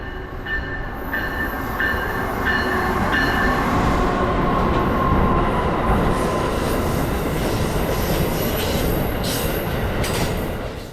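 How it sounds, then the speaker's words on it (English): Amtrak Regional Train 96 rolls eastbound through South Norwalk station behind ACS-64 locomotive 640, with another ACS-64 on the rear, giving a loud, steady rumble with wheel clatter and high metallic squeals throughout. "Amtrak Regional Train 96 as it meanders through the South Norwalk station"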